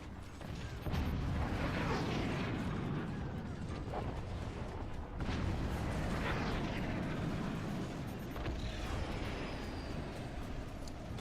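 In the Forts strategy game a howitzer fires loud, booming blasts, with heavy rumbling bursts repeating about every few seconds over a constant dense roar of battle noise.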